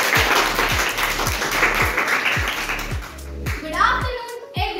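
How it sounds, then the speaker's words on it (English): Audience applause at a school debate competition, dense clapping over a regular thumping beat from music played in the hall, with a voice rising briefly near the end. "Can we have Yashi on stage with a huge round of applause?"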